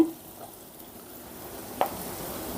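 Onion paste frying in a pan for a bitter gourd masala curry makes a soft continuous sizzle, with one sharp stirring scrape near the end and no voices over it.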